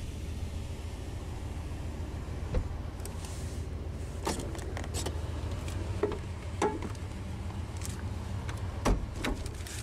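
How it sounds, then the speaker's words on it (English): The driver's power window of a 1989 Chevrolet K3500 Silverado Regular Cab rolls down with a faint, steady motor hum and a few soft clicks and knocks, heard alone with no voices. "But now we'll go ahead and roll down the driver's window"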